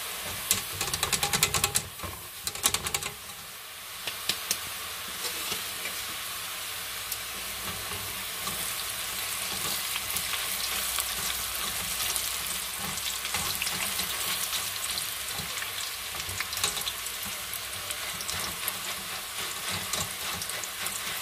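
Pieces of mchewech pastry dough fry in hot oil with a continuous, even sizzling hiss. A few bumps and clatters come near the start, then the frying settles into a steady crackle.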